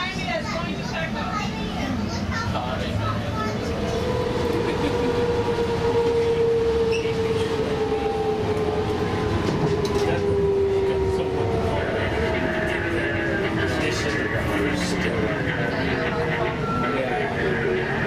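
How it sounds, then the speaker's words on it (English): A San Diego Trolley train rumbles past steadily at close range, with a long drawn-out metallic whine from the wheels rising over the rolling noise. "There's a train right behind me that's going to Texas."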